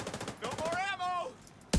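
Gunfire in a video game: a quick burst of rapid shots is followed after a pause by a single sharp, loud report, with game voice sounds between them.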